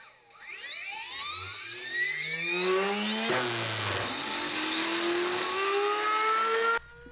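A two-part flywheel with an O-ring squeezed in the middle spins up to about 40,000 RPM, a loud whine climbing steadily in pitch and holding at a shrill, steady whir before cutting off abruptly near the end.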